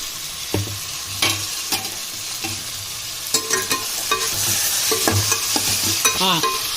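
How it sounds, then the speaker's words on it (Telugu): Chicken frying with turmeric in a pan while being stirred, a steady sizzle broken by repeated scraping strokes of the spoon, close and fairly loud with no talking. "చికెన్ వేసి ఒక్కసారి కలుపుదాం. పసుపు. ఇప్పుడు పసుపు వేసుకోవాలి."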